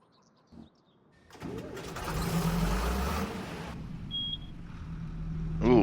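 An 80s-era tractor engine in Farming Simulator 25 cranks over and catches, settling into a close, steady rumbling idle, with faint birdsong before it starts.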